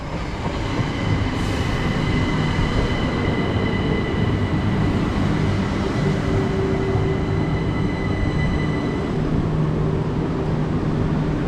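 An electric passenger train on the West Coastway Line rolls into a station in West Sussex with a steady, loud rumble and faint wheel squeal, continuous throughout with no voices.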